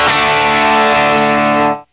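A sustained electric guitar chord rings through two stacked overdrive pedals, one a Daily Driver, thick and saturated, held loud for almost two seconds before cutting off abruptly.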